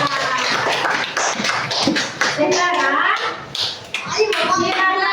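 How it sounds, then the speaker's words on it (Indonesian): A classroom group claps in a scattered burst for a student group, mixed with children's voices and shuffling in a room. "kita beri tepuk tangan untuk kelompok 2"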